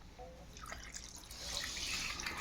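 Tap water runs lightly as meat is rinsed in a kitchen sink, a faint close splashing and trickling that grows a little fuller and brighter toward the end, with no voices.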